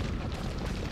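A deep, rumbling explosion in Resident Evil 4 booms and roars throughout a short second, heavy in the low end with no pause.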